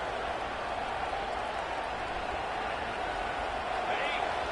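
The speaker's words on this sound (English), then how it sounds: "The crowd getting behind this defense as they try to get a stop in the red zone" Stadium crowd roaring in Football 25 as the defense tries for a red-zone stop, a steady, dense wash of cheering that holds loud throughout.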